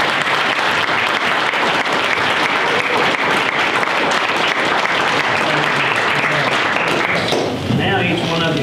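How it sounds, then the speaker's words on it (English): A loud, sustained round of applause from the audience at a town council meeting, continuous dense clapping that stays full throughout before thinning slightly near the end. "Let's give them another good round of applause."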